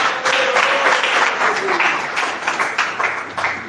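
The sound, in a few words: congregation applause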